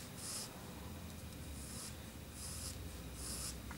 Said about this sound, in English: So I'm using the nib very, very gentle.